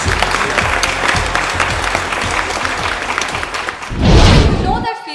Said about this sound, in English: they deserve a bigger round of applause from all of you